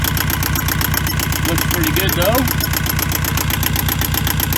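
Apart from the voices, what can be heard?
boat engine idling after oil change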